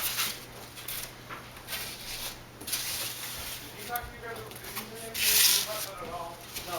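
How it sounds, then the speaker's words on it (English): A composite plane wing core is sanded by hand in a workshop with a low hum in the background, giving soft, uneven rubbing strokes with a louder scratchy burst near the end. "I know to sand to the dots, top and bottom, so that the wing comes together"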